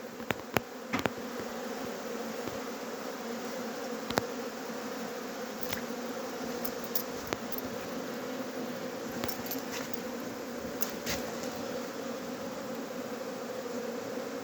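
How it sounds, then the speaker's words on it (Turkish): Dense, steady buzzing of many honeybees (Apis mellifera) arriving at the hive carrying pollen, with occasional sharp clicks and taps throughout. "yoğun olmamakla birlikte polenli gelen arılar sağlam"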